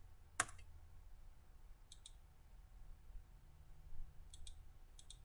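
A few soft, isolated computer mouse clicks sound in a quiet room, one sharper click first, then fainter ones spaced a second or two apart.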